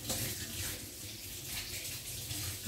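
Warm water pours steadily into a bowl for pizza dough, a continuous close splashing rush.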